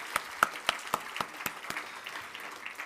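A handful of separate, sharp hand claps ring out near and fairly loud at a memorial lecture, spaced unevenly before thinning into softer scattered clapping.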